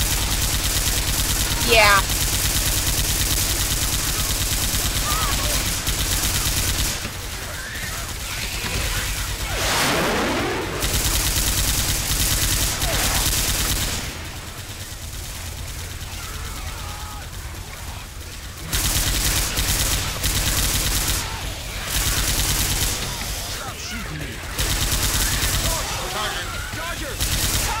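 Rapid automatic gunfire from Left 4 Dead 2 rattles almost continuously, loud and close, in bursts broken by a few short quieter gaps, while players talk over it.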